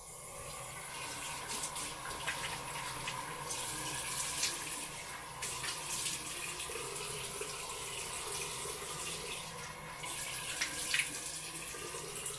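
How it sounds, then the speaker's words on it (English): A tap runs into a bathroom sink while a face is rinsed with water, a steady soft stream with small splashes and gushes throughout, fairly quiet and close, with no talking. "Okay, I'm going to rinse off."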